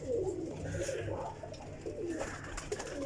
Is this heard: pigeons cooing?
yes